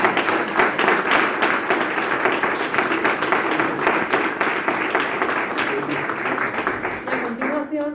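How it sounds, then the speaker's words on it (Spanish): An audience claps for the members of a poetry workshop at a creative writing gathering in Torrejón, steady close applause for several seconds that thins out toward the end. "habría que darle un fuerte aplauso a todos los integrantes de este taller"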